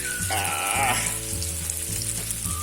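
Holy basil and canned fish stir-frying in a hot pan, a loud steady sizzle with brief tonal squeals from the spatula or pan, heard up close and without speech.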